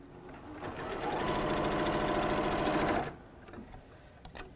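A sewing machine stitches a pillow seam with its fabric placed right sides together, a steady close whirring run of about two seconds that stops abruptly, followed by quiet handling sounds.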